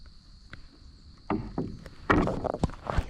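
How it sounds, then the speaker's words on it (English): Canoe paddle strokes pulled slowly through water, with a German Shepherd aboard: a few soft splashes and knocks building to denser dipping and dripping near the end, close and fairly loud. "I'm going to try and paddle slowly and we'll see what happens"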